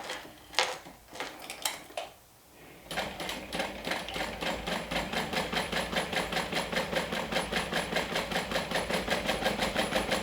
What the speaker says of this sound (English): So let's go ahead and top stitch along the edge.